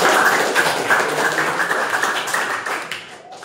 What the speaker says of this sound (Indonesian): Oke, boleh tepuk tangan teman-teman.